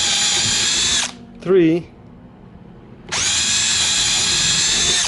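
A cordless drill bores a pilot hole, its motor whining loudly at high speed for about a second, stopping while someone briefly speaks, then starting again with a steady whine for the final two seconds.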